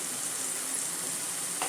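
Mint leaves go into rajma masala frying in a pan, giving a continuous close hiss and sizzle that stays steady and fairly quiet, with no talking.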